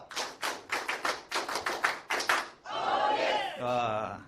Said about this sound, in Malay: Oke, tepukan Smart Elkan.